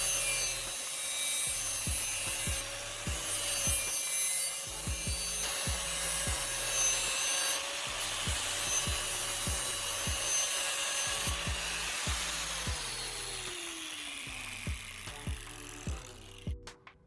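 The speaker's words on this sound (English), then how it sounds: "I'll repeat the grinding process on the second side, aiming to match the angle and sharpness of the first." An angle grinder sharpens an axe edge, running as a steady whine with repeated rhythmic scraping passes of the edge against the wheel, near and fairly loud.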